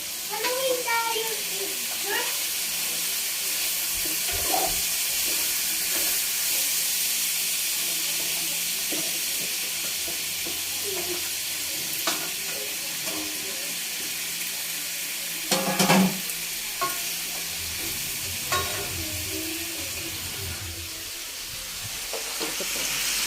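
Sweet potato and chicken adobo with soda are stirred in a frying pan, giving a steady sizzle and hiss with occasional scraping clatters while people talk over it.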